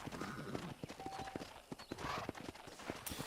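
Horse hooves clip-clop at a steady gait while riding in the Western video game Red Dead Redemption, faint rhythmic hoofbeats with a soft snort or whinny in the mix.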